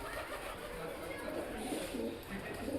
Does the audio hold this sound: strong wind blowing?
no